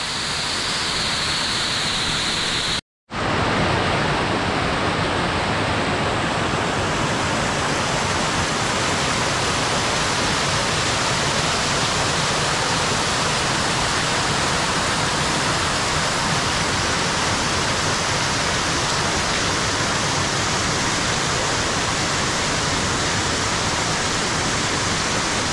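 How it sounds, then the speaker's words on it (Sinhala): Steady, loud roar of a waterfall in the Knuckles Mountain Range, heard from partway up the falls, broadband rushing water filling the whole clip with a brief cut near the start. "මේ අපි ඉන්නේ ඇල්ල මැද."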